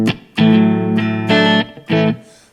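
Clean electric guitar played through the BIAS Desktop amp simulator, three sustained ringing chords with clear harmonics, separated by short gaps, loud and close with a faint reverb tail.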